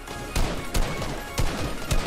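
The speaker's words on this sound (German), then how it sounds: "Also ich hab halt so einzeln geschossen." Four single gunshots spaced out in the video game Fortnite, each a sharp, loud crack over a steady game background.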